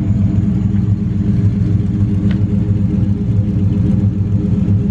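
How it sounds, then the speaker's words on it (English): A 1967 Oldsmobile Cutlass idles with its dual exhaust, a steady deep burbling rumble close by with an even low throb, loud and alone with no talk. "Nice dual exhaust, little note."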